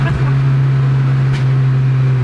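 Road noise inside a stripped Honda Civic EP3 Type R while driving: a loud, constant low drone and tyre roar fill the cabin without a break.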